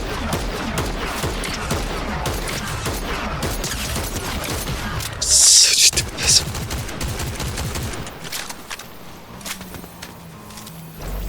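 Rapid bursts of Fortnite gunfire crackle continuously over a dense, noisy background, with a sharper, louder cluster of shots midway.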